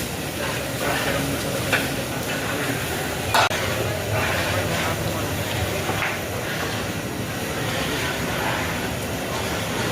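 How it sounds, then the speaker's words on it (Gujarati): Spice tempering for an eggplant and potato curry crackles and sizzles in hot oil amid a busy outdoor Maha Shivratri fair kitchen, with stirring clatter and voices in the background. "હાલો મિત્રો શાકનો વઘાર હવે થવા જઈ રહ્યો છે"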